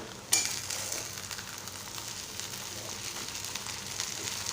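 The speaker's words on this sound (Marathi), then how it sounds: "आता हे मिश्रण आपण एकजूट करून घेऊया" Potato poha mixture is stirred in a hot pan with steady, soft sizzling and a sharp scrape near the start, then a continuous low frying hiss with faint spoon movements.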